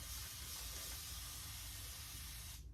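A spray bottle mists damp hair being set in two-strand twists, giving a soft, continuous hiss close by that stops abruptly at the end.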